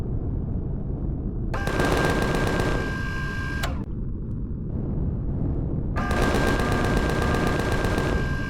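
Automatic gunfire in the space survival game Empyrion, aimed at the player near a vehicle port: two long rapid-fire bursts with a brief lull between them, loud and close.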